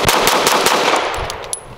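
An M&P Shield Plus pistol fires a full magazine in a rapid string of sharp, loud shots that continue steadily for nearly two seconds with no talk.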